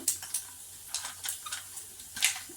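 Chana dal and spices crackle in hot oil while tempering for pulisoru (tamarind rice): close, steady sizzling with repeated sharp spattering pops and stirring scrapes, no voices.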